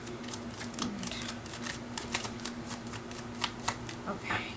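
A deck of 22 tarot cards is shuffled close by with a steady run of soft riffling slaps, while a voice talks over it.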